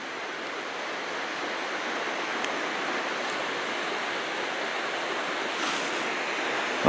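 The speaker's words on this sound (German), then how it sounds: "Schon beeindruckend, diese Brecher hier." Water crashes over a barrier in a mountain stream in the Karwendel near Mittenwald. It makes a steady, dense roar of rushing water that stays loud and unbroken throughout, with no voices.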